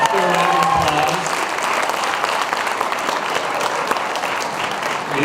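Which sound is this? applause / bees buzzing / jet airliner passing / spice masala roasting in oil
applause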